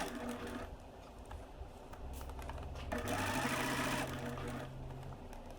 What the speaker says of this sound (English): Now edge stitch along the pinned neckline 1/8 inch away from the folded edge.